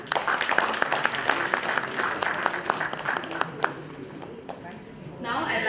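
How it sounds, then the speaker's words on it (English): Conference hall audience applauding a keynote speaker, steady crowd clapping with sharp individual claps standing out, tapering off before a brief noise at the end. "Let's all give a round of applause to Professor Dr."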